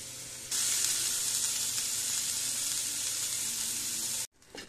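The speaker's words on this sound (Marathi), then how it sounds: "कांदा भाजून घेते." Three sliced onions roasting in a hot pan for a stuffed brinjal dish, a loud even hiss that bursts in abruptly and holds steady before cutting off near the end.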